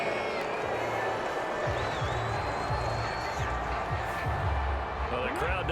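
A stadium crowd in an NFL football video game boos and murmurs angrily after a penalty flag in a Cleveland Browns at Pittsburgh Steelers matchup, a steady loud roar throughout with scattered thumps and a commentator talking over it.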